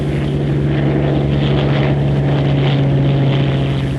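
Bell P-39 fighter engine running at full takeoff power, 52 inches and 3,000 RPM, a loud, steady propeller drone with a strong low hum that holds constant throughout, no voices.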